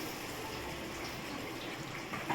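Water pours into a pan of fish curry as a continuous, even splashing gush, moderately loud and close, lasting a couple of seconds.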